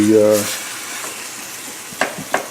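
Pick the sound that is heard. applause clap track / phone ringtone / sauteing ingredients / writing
sauteing ingredients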